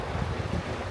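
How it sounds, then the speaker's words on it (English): Wind buffets a small boat at sea on a windy afternoon, a steady rough roar with low rumbling gusts throughout the short moment. "It's a windy afternoon"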